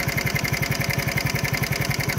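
A vehicle engine idles steadily with a fast, even pulsing throb that holds through the whole stretch. It sounds close, loud and alone, with no voices over it.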